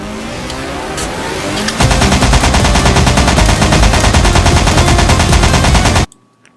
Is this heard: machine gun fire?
yes